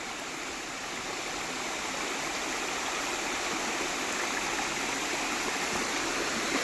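Steady rushing water at Arbi Falls near Manipal, a continuous broadband roar of falling and flowing water, close and even throughout with no voices.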